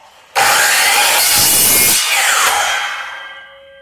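Sawing through a 1 inch piece for a rotisserie build, likely a 3/4 inch wooden dowel: a loud, close, continuous rasping cut that starts abruptly and tapers off near the end.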